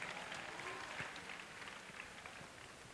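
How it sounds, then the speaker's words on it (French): A church congregation claps together at a praise festival, giving a faint, steady wash of distant applause throughout. "Clap offering to Jesus."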